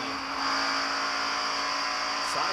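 Steady loud roar of NASCAR Winston Cup stock cars running close to the wall through the first and second turns at the 1990 Heinz Southern 500, continuous engine drone with a brief whoosh of a car passing near the end.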